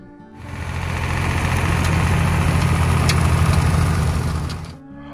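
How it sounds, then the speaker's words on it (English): David Brown 885 tractor engine, a 1971–1980 model, idling with a steady low diesel rumble that rises in, holds evenly for several seconds, then cuts off. "a symbol of durability and efficiency, the David Brown 885 tractor"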